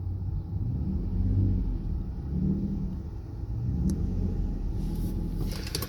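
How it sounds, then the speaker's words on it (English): A 2012 Ford F-150 fitted with a Flowmaster 44 Super muffler, heard from inside the cab while driving: a deep, steady exhaust rumble with gentle swells in engine note, loud and continuous, with a brief clink near the end. "Now I'm going to record how it sounds so you guys have an idea how I'm driving it. This is the sound from the inside of the cab."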